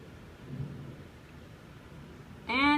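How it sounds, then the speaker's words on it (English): Distant thunder rumbles low beneath a faint hiss of rain during a storm, then a sudden louder burst near the end. "And it's raining."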